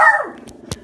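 A single sharp dog bark up close, followed by a couple of quieter clicks and knocks as the room settles.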